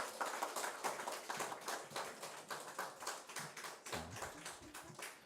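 A church congregation at a Sunday service applauds in welcome of violinist Won Yu-hyun, with a steady, soft patter of many hands clapping throughout and faint low sounds near the end.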